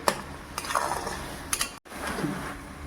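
A spoon stirs carrot halwa mixed with cashew powder in a pan, giving soft scraping sweeps and a few light metallic clinks, close and steady.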